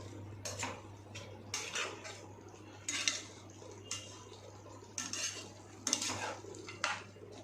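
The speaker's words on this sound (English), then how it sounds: "Stir it until they mix well." A spoon stirs mushroom cashew curry in a pan, giving repeated scraping and clinking strokes in an irregular rhythm over a low steady hum, close and moderately quiet.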